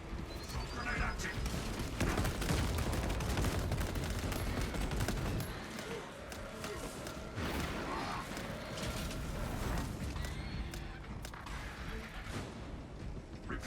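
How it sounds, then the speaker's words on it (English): A grenade explosion in the video game Space Marine, sitting in a dense and continuous din of gunfire and combat noise with game voice lines, loud throughout with no clear single blast standing out. "Grenade active."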